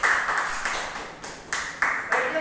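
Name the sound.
applause at an event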